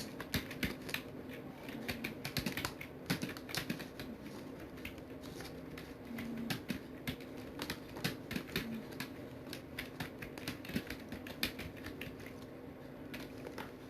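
Steady clicking of a computer keyboard as a sentence is typed into a Microsoft Word document, quick irregular keystrokes close and fairly quiet over a faint room hum, with no talking.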